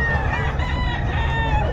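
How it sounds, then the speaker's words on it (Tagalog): A rooster crows at a busy pet market in Bocaue, a short, loud, strained call with clucking fowl and faint crowd murmur behind it. "Ito ang manok niya."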